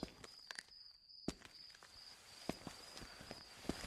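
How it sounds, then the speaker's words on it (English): Scattered footsteps tap irregularly on a hard surface, fairly close, with a thin high insect-like whine running steadily in the background. "This time it was approaching footsteps."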